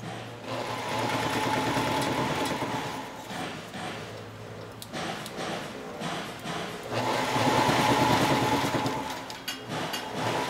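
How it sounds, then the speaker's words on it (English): A taping machine wraps an automotive wiring harness with a loud, steady mechanical whir that slows and dips midway, then speeds back up to a rapid sewing-machine-like buzz. "When the operator reaches a harness mounting clip, he slows the machine so that he doesn't tape over the point of the clip."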